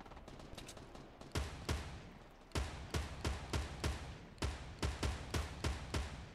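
Scoped rifle gunfire in Fortnite crackles through a busy firefight, a dozen or more sharp shots landing in irregular bursts and clusters, fairly loud over a constant game background with no talking.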